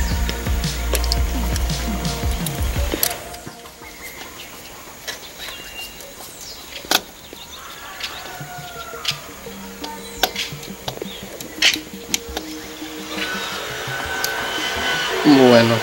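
Screws driven in while mounting an outdoor decorative lamp, with whirring bursts of a motorised driver and scattered clicks and knocks of hardware, fairly close, amid some background noise.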